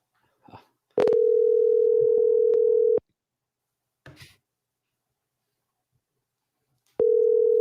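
Phone ringback tones play while a call to a number connects. Each steady two-second ring is followed by a long pause, and faint voices chatter between the rings.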